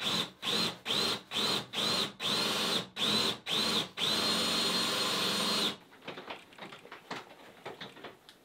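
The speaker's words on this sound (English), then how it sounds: "you're gonna have to drill the hole" A power drill bores a hole for a stove pipe in a cabin roof, running in about ten short, loud bursts and then one longer pass before it stops, followed by faint knocks.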